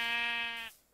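A single short sheep bleat in Minecraft, a clear buzzy tone lasting under a second and then cut off, alone with no talking.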